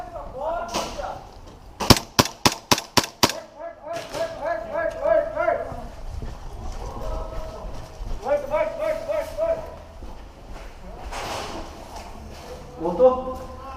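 Pistol shots in a video game land as a quick burst of sharp cracks, followed by scattered clicks and impacts under excited shouting voices.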